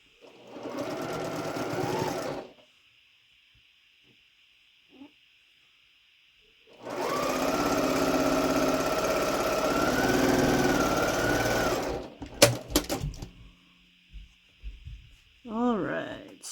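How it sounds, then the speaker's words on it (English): A sewing machine stitches quilt pieces together in two runs of rapid, even whirring, close and clear, separated by a quiet pause, with a few soft handling sounds afterward. "So I'm going to sew these together"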